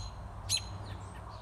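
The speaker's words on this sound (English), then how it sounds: "Can you see the mama bird chirping in the tree?" A mother bird chirps from a tree near her nest outdoors in spring, giving one short, fairly faint high chirp over a steady background hum, with no voices.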